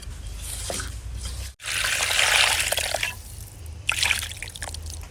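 Water pours from a bottle into a pot of fish curry soured with tamarind and raw mango, a close splashing, trickling stream that pauses briefly, then runs again with a few drips and sloshes, with no talk.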